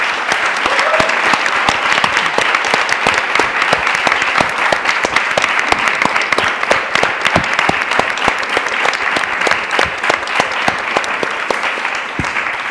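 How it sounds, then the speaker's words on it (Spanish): Steady, dense applause from an audience at a youth arts literary event fills the whole stretch, loud and sustained with sharp individual claps throughout. "Os pido un aplauso para ellos"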